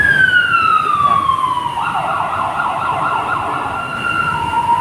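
A loud ambulance siren wails, sweeping up and down, then shifts to a rapid warbling yelp, close by over road noise.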